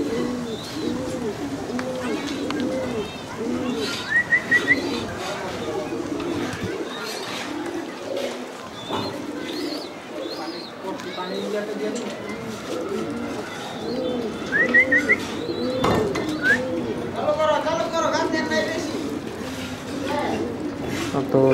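Khaki pigeons coo in repeated rolling phrases close by, with pauses and some higher chirps, while people talk over much of the scene.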